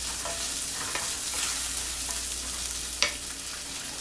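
Spam and onions frying in a pan, a steady close sizzle with occasional stirring scrapes and one sharper clack near the end, no talking.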